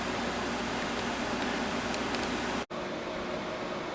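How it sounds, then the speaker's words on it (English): A 5,000 BTU air conditioner with only its fan running gives a steady, close, broadband whooshing hum that continues unbroken apart from a brief dropout near the end, with no talking. "Right now just the fan is running"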